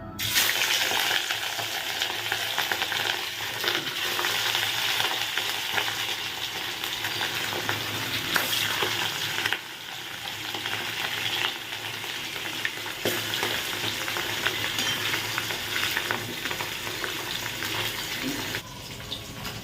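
Dense, steady sizzling of fish frying in hot oil continues throughout, with crackles and a slight dip in loudness midway.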